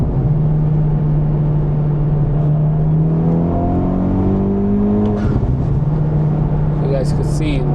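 2023 Honda Civic Type R with tune and Integra pops, making a short acceleration pull on the highway: loud engine note climbing in pitch as revs rise, then a shift and the drone settling, heard from inside the car.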